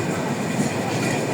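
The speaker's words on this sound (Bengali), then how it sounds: "আমাদের ট্রেনটি এগিয়ে এখন জয়দেবপুরের উদ্দেশ্যে রওনা দিয়েছে।" A passenger train rolls out of Airport railway station in Dhaka, heading toward Joydebpur, a steady rumble of wheels on track close by with no talking.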